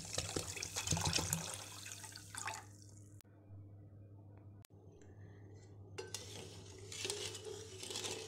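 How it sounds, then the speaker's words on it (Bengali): Water pours into a pan already holding sugar and cardamom pods for a sugar syrup for kalojam sweets. It gives a close, splashing rush with dripping, then a quiet gap before another burst of running water. "আড়াই কাপ পরিমাণ পানি দিয়ে দিচ্ছি"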